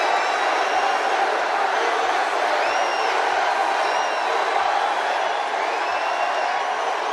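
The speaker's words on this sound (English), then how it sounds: "it sounds like a excited crowd" Excited crowd at a Donald Trump rally on Long Island, New York, a dense steady roar of many voices with scattered whoops and rising shouts throughout, loud and continuous.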